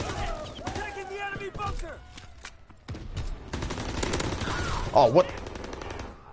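Rapid automatic gunfire from a weapon in the World War II shooter game WW2, bursts rattling close and loud while a player talks over the shooting.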